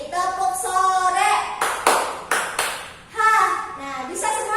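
Students in an Indonesian madrasah classroom clap a short rhythm pattern; a few sharp, close claps cluster in the middle of the clip, surrounded by children's chanting voices.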